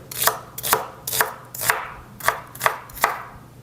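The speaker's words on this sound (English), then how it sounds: "we're gonna slice up some shallots." A knife slices through shallots on a cutting board with seven crisp, evenly spaced cuts, close and clear with no talking.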